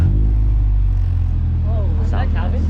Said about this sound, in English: Now we're getting a startup on the Integra.